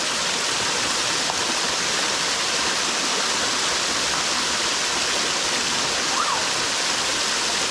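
Water rushes continuously over a waterfall at a hidden spot after the flow has risen, a dense, loud, unbroken hiss filling the whole stretch with no voices.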